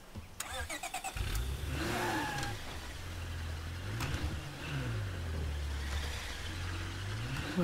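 A car in the zombie video game State of Decay 2 starts up, then its engine drones and revs in repeated rising and falling swells, loud and close, with clattering game noise early on.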